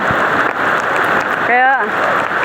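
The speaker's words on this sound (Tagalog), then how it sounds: "Grabe yung ulan." Heavy, unceasing rain pours down during a flood, a loud dense hiss filling the scene, while a voice briefly speaks over it near the end.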